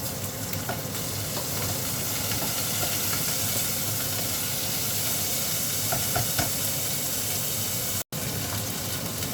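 Meat sizzles and spits steadily in a hot pan with garlic and onion, a loud continuous frying hiss with faint stirring scrapes, close and unbroken apart from a brief dropout near the end.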